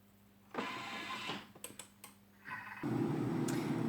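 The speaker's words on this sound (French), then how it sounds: "Et on mixe pendant 1 minute." Cooking robot blending coral lentil soup for about a minute: a loud steady whirring motor that kicks in, wavers with a few clicks and knocks, then settles into a constant dense roar, with no talk.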